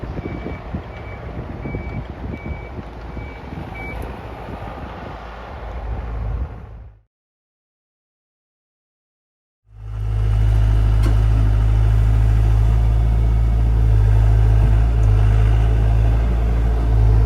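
A heavy equipment loader moving dirt for driveway and landscaping work: a rumbling engine with periodic reversing beeps, cutting out to silence midway, then returning as a loud, close, steady engine drone.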